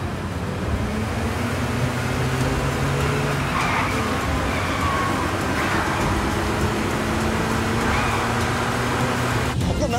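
Road traffic noise from a car driving on a busy road, a steady engine and tyre roar that holds throughout without clear rises.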